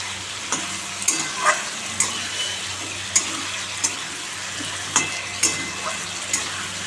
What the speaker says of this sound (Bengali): ডিমটা দিয়ে দিলাম এর মধ্যে জল দিয়ে দেবো অল্প করে